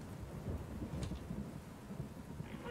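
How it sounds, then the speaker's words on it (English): A thunderstorm in the Barbie Horse Adventures video game plays as a faint, low rumble of thunder under a steady wash of rain, quiet and distant throughout. "There was a storm. It was blowing all night."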